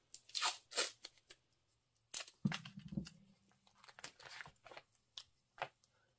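Tape is pulled and torn off a roll close by in a quiet room during sewing prep for a quilted pillow, with several short ripping and crinkling bursts.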